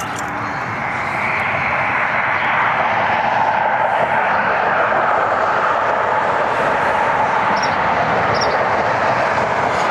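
Broadband jet roar of aircraft at Cleveland Hopkins airport, loud and steady for the whole stretch, swelling slightly early on as a plane moves on or over the field, with no voices.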